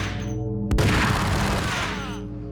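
Gunfire in the Max Payne video game: a sharp boom cuts in and gives way to a dense, loud burst of crackling shots and rumble that fades over a couple of seconds, with no talk.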